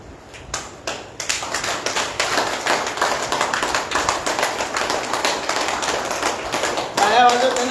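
A group claps in a steady, brisk rhythm during a yoga session with dance-like movements. The claps are close and continuous, and voices mix in underneath.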